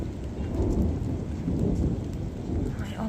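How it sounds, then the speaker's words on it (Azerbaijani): Heavy rain pours steadily during a violent thunderstorm, with a deep, rumbling roll of thunder blended into the dense, continuous wash of noise. "Göy guruldanır."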